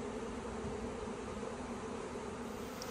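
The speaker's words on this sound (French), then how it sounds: "Capture des deux essaims surprenant sur le même arbre." Two honeybee swarms on one tree give a dense, steady buzzing hum, soft but unbroken, with no voices over it.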